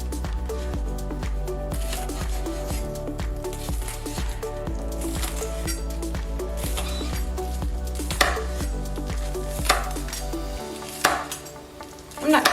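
Knife chopping green onion on a board, steady repeated cuts running through most of the clip with a couple of louder knocks near the end, with no talking.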